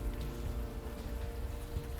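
Steady rain falls on city streets in the point-and-click adventure game Unavowed, a continuous wash of patter with low rumble underneath, fairly loud and without any talking.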